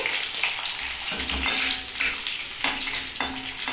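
Frying onions crackle and sizzle in a pan, with a spoon stirring and scraping at intervals. Close and steady, with no voices.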